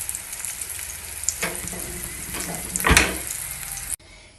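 Brinjal (eggplant) fries in a pan with a close, crackling sizzle, broken by a couple of scraping stirs before the sound cuts off abruptly.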